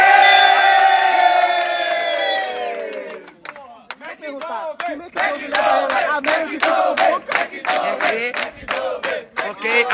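A crowd of fans in a house cheers and shouts loudly, a sustained roar of voices that breaks into choppy bursts of whoops and yells.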